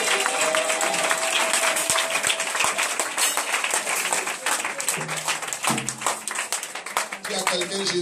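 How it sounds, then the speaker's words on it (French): Church congregation applauding Jesus Christ during a Saturday teaching service, dense continuous clapping from a crowd that stays loud throughout, with voices and music tones rising through it. "Est-ce qu'on peut acclamer Jésus-Christ de Nazareth?"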